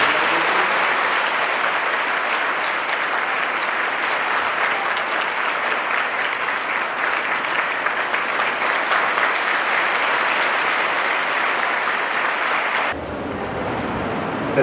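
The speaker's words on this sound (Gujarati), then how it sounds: "દીકરીઓ પર તાળીઓના ગણગડાટ" Sustained, loud applause from a gathered crowd honoring daughters at a community ceremony, steady clapping throughout before cutting off abruptly near the end.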